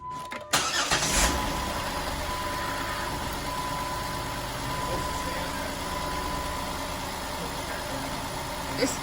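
A car engine cranks with a brief starter burst and catches, then settles into a steady close idle under faint cabin background noise, with a thin electronic tone running through.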